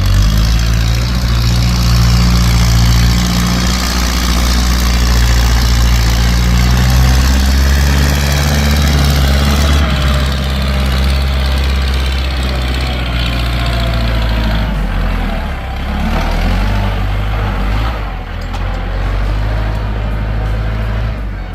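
Kubota L4708 tractor diesel engine idling steadily up close, a loud continuous low rumble with no talk.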